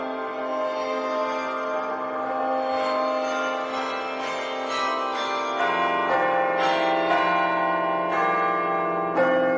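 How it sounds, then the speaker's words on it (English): A marionette clock chimes, its bell-like tones ringing out in a steady sequence of overlapping strikes that build and sustain at moderate loudness, with no talking. "A marionette clock. I'm sure that's what that sound was."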